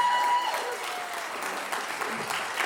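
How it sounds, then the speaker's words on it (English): Audience applause at a San Antonio city council runoff debate for Districts 1 and 7, a steady moderate patter of clapping that stays fairly even throughout with no talking over it. "You can applaud here"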